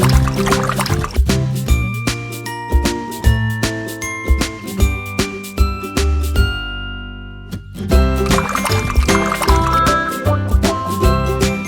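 A cartoon splash of water poured from a bucket onto a magic tree, with dripping, trickling liquid effects over loud, tinkling, percussive cartoon music that breaks briefly midway before resuming.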